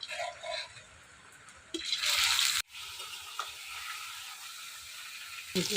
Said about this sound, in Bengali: এই দেখেন কত সুন্দর করে মাছ ভাজছি